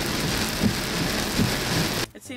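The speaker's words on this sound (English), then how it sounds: "It seems no matter where we go, it rains." Heavy rain pours down steadily outside a video game convention, a dense, loud hiss of drops hitting surfaces that cuts off abruptly near the end.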